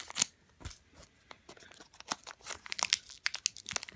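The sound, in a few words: cutting open a Pokemon card booster pack wrapper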